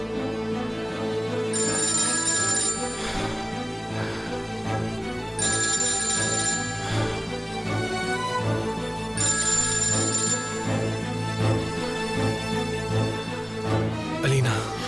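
A phone's ringtone sounds in three regular, clear bursts over a steady bed of dramatic music in a dubbed Turkish drama scene, with no one speaking.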